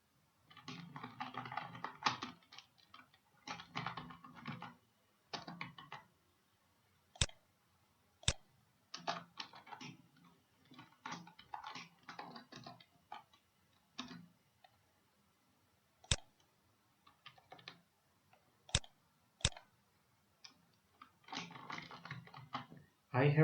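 An email signature typed on a computer keyboard, bursts of quick close key clicks broken by pauses and several sharp single taps, quiet and without talking.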